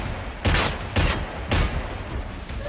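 Gunfire in the video game Generation Zero: three loud, close bursts of shots about half a second apart, followed by fainter scattered crackles.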